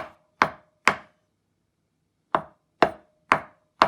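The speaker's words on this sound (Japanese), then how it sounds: "包丁が滑る引き切りが基本。" A knife taps sharply on a cutting board, pull-slicing a thin omelette into fine egg strips, in crisp, quiet strokes: two, a pause, then four more in a steady rhythm.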